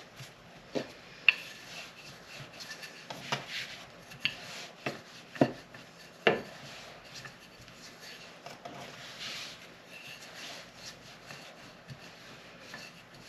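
Steak and kidney pudding ingredients being mashed together in a bowl, a series of soft rubbing, squelching scrapes with a few sharper knocks, close and fairly quiet, with no talking.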